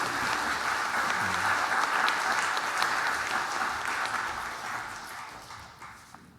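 A church congregation at a revival service's morning worship applauds to welcome a guest pastor, a dense, steady wash of clapping that slowly fades toward the end.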